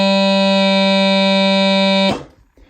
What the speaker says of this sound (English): When you place all of your fingers on the chanter and you blow,